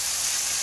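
Hamburger frying in a little oil, a steady hiss of sizzling that runs evenly through a brief moment with no other sounds.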